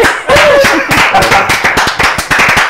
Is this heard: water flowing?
no